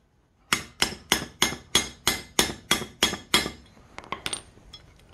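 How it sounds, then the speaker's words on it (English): Ten sharp metallic hammer blows in a steady rhythm on a 2000 Toyota Sienna caliper bracket, close and loud, followed by a few lighter taps and clinks. "We're gonna take it and hammer it down like that. Hammer it in."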